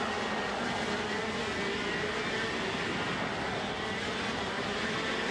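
Racing karts on Vega tyres roar out of a chicane at a WSK Super Master round, a dense, steady, loud engine drone filling the whole clip with no voices heard.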